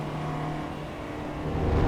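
A B16 engine fitted to a Mini Cooper in the Assetto Corsa EVO racing game, revving steadily as VTEC engages near 5,000 RPM, a constant engine drone that grows louder toward the end.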